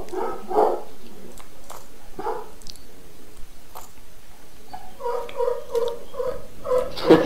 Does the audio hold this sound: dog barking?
yes